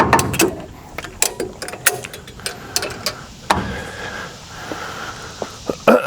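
Ratchet tool being cranked during a Dana 60 axle install on a 1987 Ford F350 4x4 conversion, a string of sharp, irregular clicks and metallic ticks close by, spaced unevenly over several seconds.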